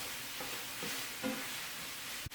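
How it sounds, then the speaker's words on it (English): Crumbled sausage meat sizzles steadily in a pan while a wooden spoon stirs it, giving a few soft scraping strokes and a sharp knock near the end, faint and with no talk. "now I will take my wooden spoon and get everything browned off"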